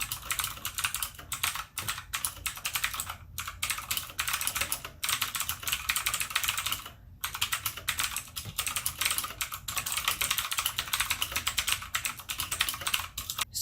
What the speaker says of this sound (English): We'll see how noisy the blue clicky switches is.